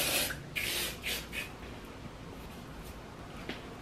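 Texture spray is misted onto braided hair, a few short airy hisses in quick succession near the start, then quiet rustling.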